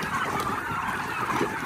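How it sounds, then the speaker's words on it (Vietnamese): Huba turkeys on a breeding farm at feeding time fill the air with a dense, continuous chorus of gobbles and honking calls from a large flock, loud and close with no talk. "đây là quang cảnh một buổi cho gà Tây ăn"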